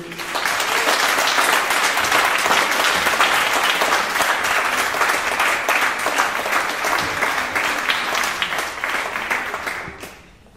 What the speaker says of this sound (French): je vais vous demander d'accueillir avec vos applaudissements